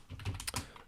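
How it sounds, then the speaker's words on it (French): A computer keyboard being typed on, a short cluster of soft, close key clicks over about a second, quiet and with no talking. "directement j'appuie sur F2, et vu que j'ai les mains sur le clavier, ça va beaucoup plus vite"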